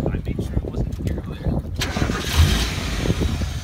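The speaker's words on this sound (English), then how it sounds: "Rev it up a little bit." A car engine with its intake removed, worked on in a Honolulu garage, revs in a rough, broadband roar after a brief stretch of mechanical clatter, with people talking close by.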